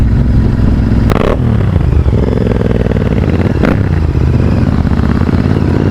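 Royal Enfield Interceptor 650 twin fitted with an AEW 103 exhaust, revving loudly up close with a steady rumbling exhaust note, two sharp bursts of throttle blipping and crackle rising above the idle drone, no voices.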